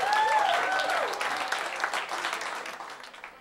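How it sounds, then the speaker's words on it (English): A comedy club audience at the Comic Strip applauds to welcome a comedian, with a whistle near the start, then dense, steady clapping that slowly fades, a voice faintly audible underneath. "Big round of applause for Laurie Kilmartin, everybody!"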